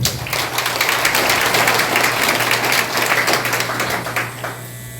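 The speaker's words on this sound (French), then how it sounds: "Qu'il vous plaise de les applaudir chaudement" Audience at a graduation ceremony bursts into warm, sustained applause, thick and steady for several seconds before thinning out at the end.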